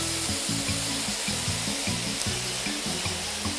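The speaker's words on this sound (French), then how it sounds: "maintenant que c'est bien saisi, vous allez rajouter de la sauce soja" Soy sauce hitting seared beef steak in a hot pan gives a loud, steady sizzle throughout, with a low rhythmic rumble beneath and no talking.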